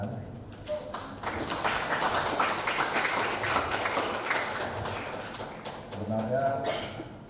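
An audience at an Indonesian community organization's national gathering breaks into sustained applause, a dense patter of many clapping hands that fills the room for several seconds, with a voice speaking over it toward the end.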